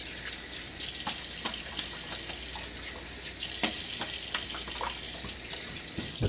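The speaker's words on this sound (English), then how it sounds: "And a little bit of a rinse." Tap water runs steadily into a sink to rinse a Gillette Tech safety razor, a continuous close hiss broken by occasional splashes and sputters as the razor passes under the stream.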